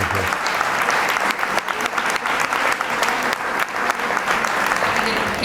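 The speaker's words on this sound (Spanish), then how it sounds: "te volvemos a dar este aplauso porque sí que es verdad que nos has emocionado" A conference audience claps steadily for a speaker, a dense, even wash of many hands close and loud throughout, with no voices standing out.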